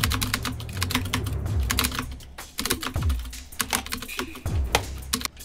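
Rapid clattering keystrokes on a computer keyboard, close and continuous in quick irregular bursts, with a few brief pauses and low thumps mixed in.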